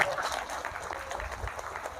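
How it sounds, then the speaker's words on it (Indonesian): A gathering at an Islamic talk breaks into brief applause for about two seconds, with a voice faintly audible over it. "tepuk tangan dulu"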